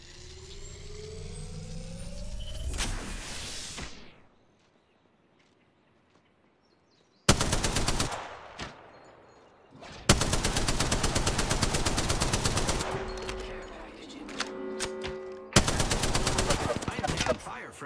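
Loud bursts of rapid automatic gunfire in Apex Legends, several sustained volleys separated by a short quiet gap, following a fading mechanical whine.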